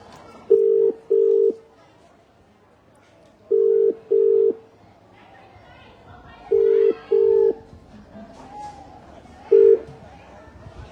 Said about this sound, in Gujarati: આપણે સામેથી ફોન લગાવી લઈએ।